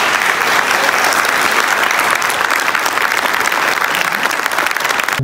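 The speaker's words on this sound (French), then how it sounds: "je vais vous demander d'applaudir." Dense, sustained audience applause at a civic award ceremony honoring local residents, loud and steady clapping from a large crowd throughout.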